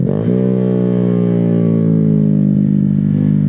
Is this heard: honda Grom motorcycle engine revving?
yes